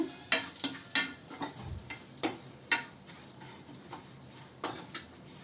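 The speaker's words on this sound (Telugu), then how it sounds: "ఇప్పుడు ఆయిల్ కాదు నెయ్యి, ఇది వేపుకున్నాము" Vermicelli roasting in ghee in a pan, with a steady soft sizzle broken by repeated sharp scraping and stirring clicks of a spoon against the pan, fairly close and fairly quiet.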